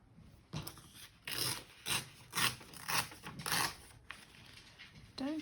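Paper being torn by hand while trimming a triple pocket folded journal card, a series of short rasping rips in a steady rhythm, close but soft, with a quiet voice briefly in the background.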